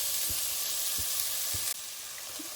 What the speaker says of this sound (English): let the onion fry for 2 minutes so that it gets a little bit softer.